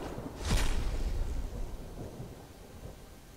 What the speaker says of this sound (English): So we've got another lightning strike.